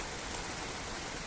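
Heavy lashing rain pours outdoors in Ireland, a dense, steady hiss of close, constant downpour with no voices.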